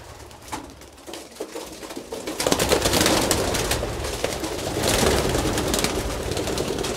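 Pigeons in a loft burst into flight, a sudden loud flurry of flapping wings after soft cooing, the fluttering continuing in waves close by without talk.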